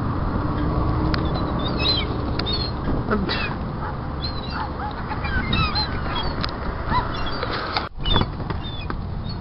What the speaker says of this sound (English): There's so many seagulls around our car and in on the hood or roof.